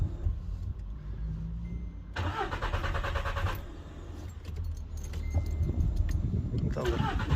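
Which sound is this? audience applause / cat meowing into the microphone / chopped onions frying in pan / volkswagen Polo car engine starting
volkswagen Polo car engine starting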